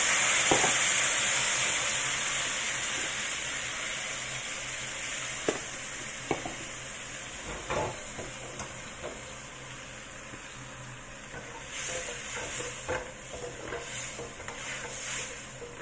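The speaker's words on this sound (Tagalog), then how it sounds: "ngayon maglalagay na tayo ng soy sauce, Kikkoman soy sauce, Japanese soy sauce" Kikkoman Japanese soy sauce goes into a small hot pan for chicken feet, giving a steady close sizzle and frying hiss with occasional stirring clatter, strongest at first and then settling lower.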